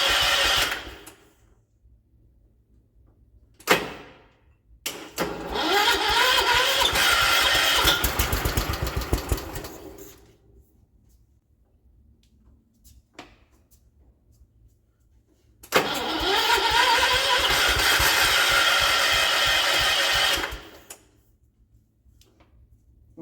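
A restored 1979 John Deere 216 hydraulic-lift lawn tractor engine cranks, stumbles, then catches and runs loudly for about five seconds before cutting out, then starts again and runs steadily for several seconds more, close by with quiet gaps between attempts.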